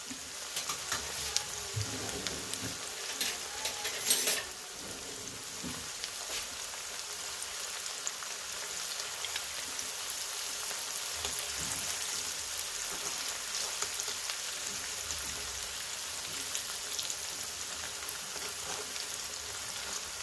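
Tamarind fish curry boiling in a pan makes a steady soft bubbling sizzle throughout, fairly faint and continuous, with a brief louder clatter early on.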